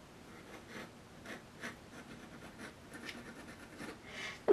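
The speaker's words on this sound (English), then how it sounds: "Just going to sign my name here." A metal dip pen nib writes on paper with short, soft scratchy strokes in an irregular rhythm, faint and close, with no voices.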